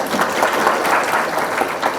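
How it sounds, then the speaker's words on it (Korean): A lecture hall audience at a pharmacists' special lecture series claps to welcome a lawyer to the stage, sustained, fairly loud applause with dense overlapping claps throughout. "큰 박수로 모셔보겠습니다"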